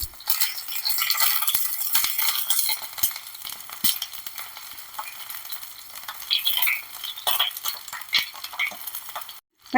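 Eggplant roasting in a hot pan for a charred brinjal curry gives a steady broadband sizzle with intermittent stirring scrapes and light utensil clinks, fairly loud and continuous, with no talking.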